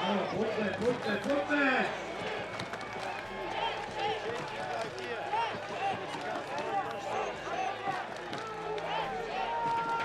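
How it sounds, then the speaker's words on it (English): A full-house crowd on its feet chanting support for the Czech team at a medieval combat tournament playoff, steady loud rhythmic crowd noise with a commentator talking over it. "The crowd chanting"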